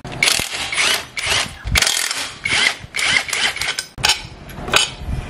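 A ratchet with a 24 mm socket loosens the swing arm nut on a scooter, giving close, loud, rapid clicking strokes in repeated bursts with short breaks, and no voices.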